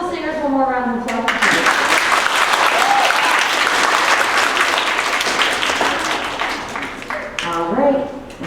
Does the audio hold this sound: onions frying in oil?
no